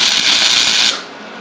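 A welder tack-welding small rebar ears onto a rebar reindeer sculpture makes a loud, steady crackling hiss for just under a second before cutting off, leaving a quieter background.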